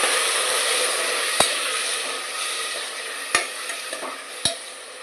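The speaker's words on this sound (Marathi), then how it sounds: "आणि भाज्या पण छान अशा तुपामध्ये परतवून घ्यायच्या" Vegetables sautéing in ghee for daliya khichdi give a steady soft sizzle, broken by a few sharp clicks and scrapes of a spoon against the pan, with no talk.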